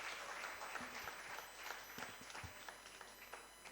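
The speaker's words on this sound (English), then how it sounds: "Give a big round of applause to Rajrata University of Sri Lanka" Applause from the audience at a university quiz competition awards ceremony, a faint, dense, steady crowd clapping heard from a distance with a few scattered low thumps.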